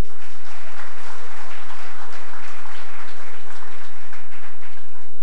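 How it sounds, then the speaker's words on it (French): A large audience applauds loudly and continuously, dense clapping that fades slightly toward the end. "je vous demande d'applaudir, s'il vous plaît"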